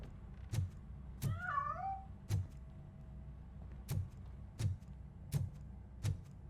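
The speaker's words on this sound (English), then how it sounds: "That cat must be hiding inside. Let me lure it out." A cat in RoboCop: Rogue City gives one wavering meow early on, fairly faint, amid a regular series of sharp, evenly spaced thuds like footsteps or impacts, no one talking.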